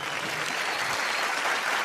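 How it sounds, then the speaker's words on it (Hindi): Applause from a stage comedy show audience, a continuous dense clatter of many hands clapping for a performer, steady and fairly loud throughout the short stretch. "एक बार मुन्नी के लिए जोरदार तालियां।"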